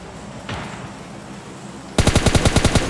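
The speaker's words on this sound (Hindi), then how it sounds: "थोड़े फायरिंग की आवाज़ आई।" Gunfire in PUBG Mobile Lite during a solo-versus-duo match: faint distant shots at first, then a loud rapid burst of automatic fire with about nine evenly spaced reports close by.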